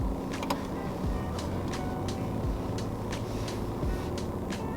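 A car reverses out of a garage with a steady low engine hum and a string of light, evenly spaced ticks and clicks above it, with no talking.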